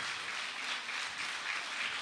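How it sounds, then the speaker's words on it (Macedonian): Audience applause at a ceremonial nursing-week academy, sustained clapping from a hall crowd at an even level. "Ке ве замолам за еден голем аплауз"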